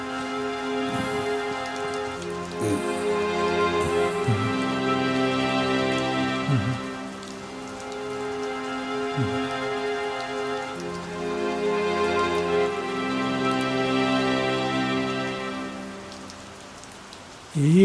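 Steady rain falls on surfaces for the whole stretch, a continuous hiss heard under sustained tonal music.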